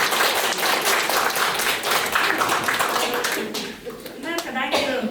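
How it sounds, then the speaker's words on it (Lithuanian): An audience at a book presentation meeting claps to greet a Lithuanian Seimas member. Dense, loud applause fills most of the moment, then thins out as a voice begins speaking near the end. "Pasveikinti plojimais."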